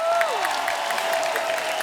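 A studio audience on a comedy show claps for a singer in a brief burst of applause, with musical tones sustained underneath.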